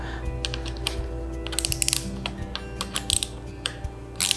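An 8 mm wrench works a hex-head screw on a wheelchair armrest, making light metallic clicks and taps in irregular bursts over a low background hum.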